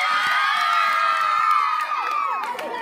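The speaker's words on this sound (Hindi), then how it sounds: "बच्चों का शोर बता रहा है." A crowd of schoolchildren at a sports day basketball match shouts and cheers continuously, a dense high-pitched roar of voices with rising whoops, loud and sustained throughout.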